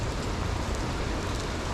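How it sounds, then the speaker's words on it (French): Heavy rain pours down in a dense, continuous hiss of drops striking surfaces, loud and close with no voices. "La pluie est plus forte. Elle est vraiment plus forte."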